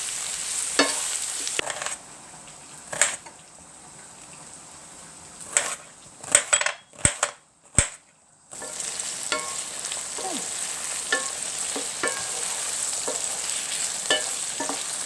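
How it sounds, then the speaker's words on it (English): Steady crackling sizzle of aubergines frying in vegetable oil, interrupted by several sharp clinks and scrapes of stirring, then the hiss resumes strongly. "will start frying aubergines first"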